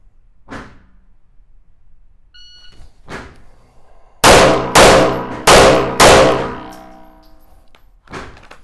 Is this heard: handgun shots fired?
yes